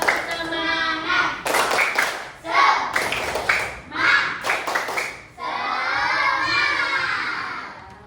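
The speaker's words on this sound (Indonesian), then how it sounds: "tepuk semangat dulu biar kita semangat" A class of schoolchildren perform a rhythmic 'tepuk semangat' clapping chant, shouting words in unison between bursts of synchronized claps. Near the end the group chant becomes a longer sustained shout.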